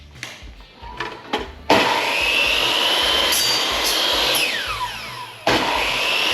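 A power saw cuts through small gold-coloured posts during a DIY 4x4 truck camper interior fit-out, first a few short bursts and then a loud, steady whining cut lasting several seconds, with a rising and falling pitch.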